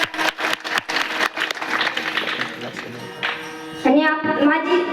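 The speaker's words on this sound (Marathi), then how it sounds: "त्यांच्यासाठी एकदा जोरदार टाळी वाजवा" An audience at a devotional kirtan gathering claps in a quick burst of sharp claps, which fades as voices and tuneful sound take over near the end.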